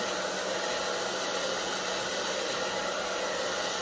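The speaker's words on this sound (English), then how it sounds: "if you hold the blow dryer in one spot and just blast one spot, it's gonna possibly loosen up the glue" A blow dryer blasting hot air onto the binding of an archtop guitar to soften its glue, giving a loud, steady, unbroken rushing whoosh from start to end.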